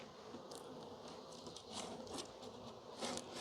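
Swarm of honey bees buzzing around a hive during spring mite treatment, a steady dense hum with brief louder passes close by.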